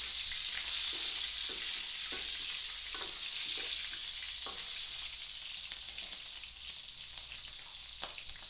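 Pork jowl fries in oil with a constant bright sizzle, while a utensil stirs it in repeated scraping strokes at an irregular pace, close by and without talk.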